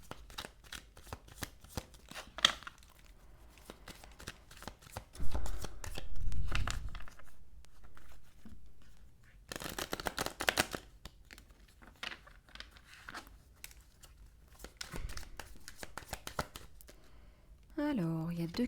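Tarot cards from a romantic tarot deck being shuffled by hand, a soft papery riffling and crinkling that comes and goes in bursts across the clip, with quiet handling noise between them.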